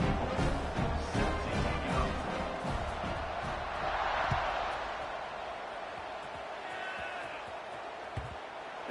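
A stadium crowd in the college football video game NCAA 26 roars in a dense, steady wash of noise, with a few thuds and a faint swell of cheering partway through.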